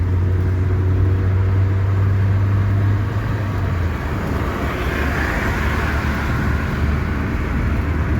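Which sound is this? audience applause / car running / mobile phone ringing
car running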